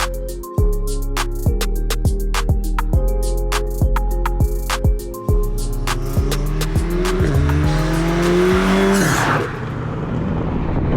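A Stage 2 tuned four-wheel-drive VW Golf R accelerates hard around a bend, its engine revving loud and close through a string of rapid gear shifts with sharp pops, then rising to a tire squeal near the end.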